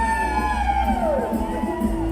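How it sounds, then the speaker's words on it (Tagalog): A crowd at an international parade of banners, including a Japanese delegation, shouts and cheers in a sustained, dense roar with a rising and falling chant over steady outdoor noise. "Sumigaw ang mga taga-Japan."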